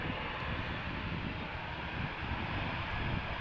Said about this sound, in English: This is KLM flight 605, Boeing 787-10 Dreamliner outbound to San Francisco.